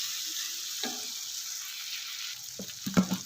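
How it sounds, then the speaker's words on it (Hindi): Liver (kaleji) sizzles steadily as it is fried in a pan, with a few soft stirring scrapes near the end, for a kaleji masala dish. "ये देखें कलेजी अच्छे से भुन गई है"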